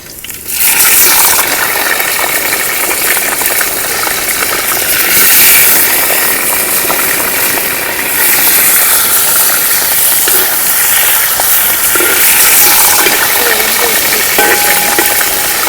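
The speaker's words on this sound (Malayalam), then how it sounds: "ചെമ്മീൻ ഫ്രൈ ആയിക്കോട്ടെ." Prawns frying in hot coconut oil, Kerala style, make a loud, continuous close-up hiss that rises and falls slightly in strength and never stops.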